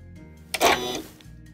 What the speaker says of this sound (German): lege mir also immer erstmal den Ruler auf den Stoff und drücke ihn fest, so wie ich es später beim Schieben des Stoffes auch machen werde und senke den Nähfuß ab